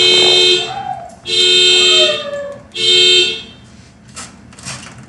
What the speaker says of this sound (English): the dog jumped up and set off my car alarm